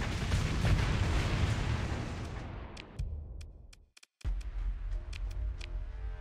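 Torpedo explosions from a space combat battle in the game Starsector: a loud, dense rumbling barrage of blasts that cuts off abruptly, followed after a brief silence by sparse sharp ticks over a low rumbling background.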